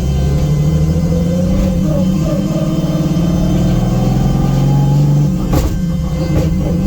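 2JZ-engined Nissan S14 droning steadily under load during clutchless shifting, a loud close cabin rumble whose pitch climbs and dips slightly with revs, ending in a brief bump as the gear changes.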